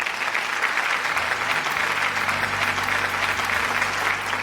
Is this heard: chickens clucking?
no